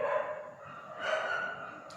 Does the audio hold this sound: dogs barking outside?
yes